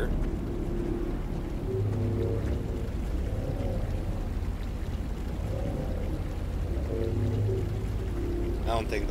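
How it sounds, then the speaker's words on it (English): Steady rushing flow of water in the video game Passing Pineview Forest, continuous and even throughout, with a low droning hum and faint tonal sounds beneath it. "I hear water."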